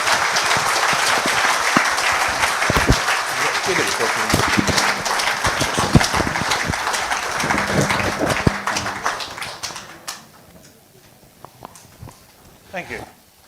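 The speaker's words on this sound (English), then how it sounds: "Round of applause, please." Conference audience applause fills a hall as a speaker is introduced, dense sustained clapping for about ten seconds before fading into a quieter room with a few scattered claps and faint voices.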